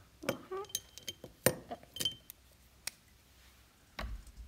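Plastic Christmas ornaments clink and tick lightly as they are handled, scattered small taps spread across the moment, fairly close and quiet.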